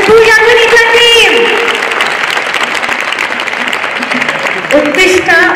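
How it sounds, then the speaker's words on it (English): Sustained, loud crowd applause for a Pooja Kunitha folk dance team at a cultural festival, steady clapping throughout with a voice speaking over it near the start and end. "Wow, I didn't expect just that much applause. Come on, once more for the Pooja Kunitha team."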